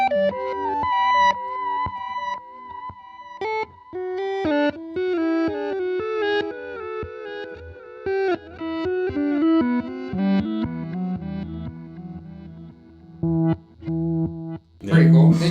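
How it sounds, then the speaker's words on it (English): An electric guitar runs through Danelectro vintage series pedals, giving a dreamy, effected, boosted tone as notes and chords ring out with sustain, and a voice briefly cuts in at the end. "So we get some nice dreamy sound. We'll boost it up with our breakdown."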